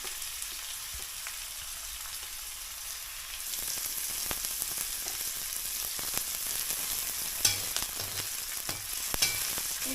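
Chopped onion and green chili sauté over a wood-fired chulha, a steady close sizzle with scattered crackles and scraping stirs that thickens after a few seconds, no talking.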